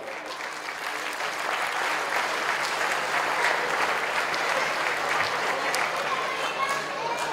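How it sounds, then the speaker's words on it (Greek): Audience at a folk dance group's event in Perdikkas, Kozani, breaking into sustained applause, a dense, loud field of many hands clapping steadily throughout, with faint crowd murmur beneath. "Και εδώ θέλει χειροκρότημα."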